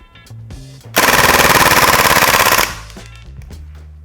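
A Tec 9 gas blowback airsoft gun fires one rapid full-auto burst of close, evenly spaced cracks lasting under two seconds, then goes quiet.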